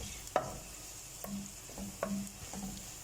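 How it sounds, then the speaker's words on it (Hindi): Cumin sizzling in a frying pan with onions while okra is being cooked, a low steady fry with a few sharp stirring clicks and scrapes of a spoon against the pan, fairly quiet and close, no talking. "ज़ीरा डालने के बाद मैं इसे 1 से 2 मिनट फ्राई और करूँगी"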